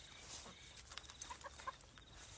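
Small flock of Easter Egger and Isa Brown hens on a farm, soft clucks and short calls scattered over about two seconds, fairly faint with outdoor background, no talking.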